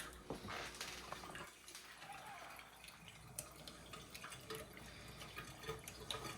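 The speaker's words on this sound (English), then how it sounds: "undo the drain again, let air everything out, all the vinegar solution" Vinegar cleaning solution drains from a Frigidaire ice maker, a steady close trickle and splash of liquid with scattered drips running throughout, no voices.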